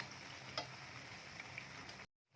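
Dahi vada lentil dumplings sizzle steadily in hot oil, a continuous bright crackle with a few sharper pops, then the sound cuts off abruptly near the end.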